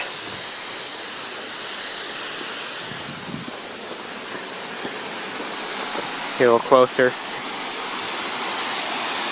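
Waterfall at Turning Point Park, a constant broad rushing hiss heard from close by, with someone speaking briefly over it near the end.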